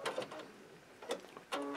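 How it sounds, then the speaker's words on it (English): A sewing machine stitching along a marked line on a quilt, a few short quiet mechanical whirring bursts close by, with pauses between them and no talk. "And now I'm just going to sew off this blue line."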